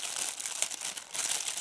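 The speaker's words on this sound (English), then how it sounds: "looking at the binoculars, which comes in a protective plastic bag." Protective plastic bag around a pair of Avantek 8x22 HD compact folding binoculars crinkles and rustles continuously, close and fairly steady, with a few sharper crackles.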